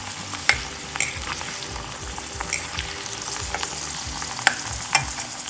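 Garlic cloves frying in oil until golden for kharda chicken, a loud continuous sizzle nearby, broken by sharp spatula clicks against the pan at irregular intervals.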